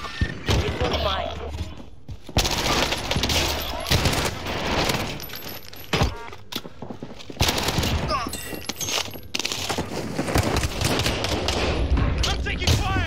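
Automatic gunfire in Call of Duty Warzone, an AS VAL rifle among the weapons, with rapid bursts and shots repeating throughout, loud and close, mixed with a player's voice talking between and over them.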